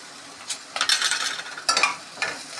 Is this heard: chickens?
no